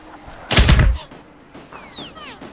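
A single loud, sharp gunshot burst in a military shooter video game, followed by quieter scattered reports and faint game effects.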